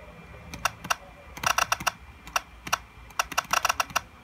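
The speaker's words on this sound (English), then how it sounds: "you want to scratch with the keyboard" Computer keyboard keys tapped in quick irregular bursts to scratch in Virtual DJ 2018, crisp close clicks with short pauses between clusters.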